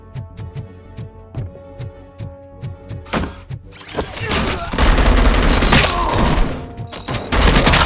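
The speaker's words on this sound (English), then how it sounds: "It's a weird assault rifle." A weird assault rifle in the video game RoboCop: Rogue City fires a regular run of sharp single shots, then erupts into loud, dense sustained bursts with heavy booming impacts and clatter.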